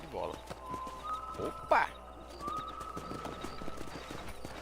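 Hooves clip-clop steadily as a horse is ridden in the video game Red Dead Redemption 2, with a brief whinny and game dialogue heard over the hoofbeats.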